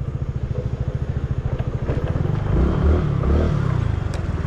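A motorcycle engine idles close by after parking at a reservoir on a cold night ride, its steady low throbbing pulse swelling briefly with a couple of light revs before settling back.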